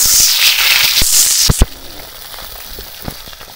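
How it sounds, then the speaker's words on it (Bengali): Fish frying in hot oil in a wok on a village cooking fire, a steady loud sizzle that cuts off abruptly partway through, followed by quieter background crackle and a few sharp knocks. "প্রথমে মাছগুলো ভেজে নেব।"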